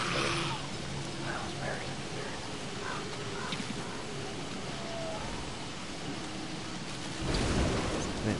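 Steady rain hisses over a swampy landscape in Don't Starve Together, with a deep rumble of thunder swelling near the end, continuous and fairly loud throughout.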